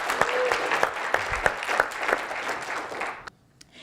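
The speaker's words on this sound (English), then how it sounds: "Give her a round of applause." An audience at a live session breaks into a round of applause, steady clapping from many hands that carries on for about three seconds before cutting off abruptly into near silence.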